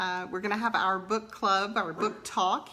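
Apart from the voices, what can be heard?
No everyday noises stand out.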